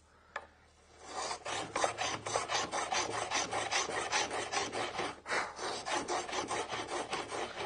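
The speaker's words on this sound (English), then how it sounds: "ensuring that I'm keeping the plane up against my vertical fence" An HNT Gordon hand plane cuts a rebate in wood, held against a vertical fence, giving a run of rhythmic rasping strokes close by, each a short scraping shave repeated steadily after a brief quiet start, with no voices.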